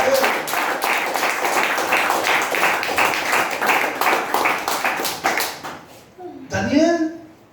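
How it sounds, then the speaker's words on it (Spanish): A church congregation claps in a fast, steady rhythm for several seconds, the applause fading out as a voice speaks near the end. "Fuerte ese aplauso para Él."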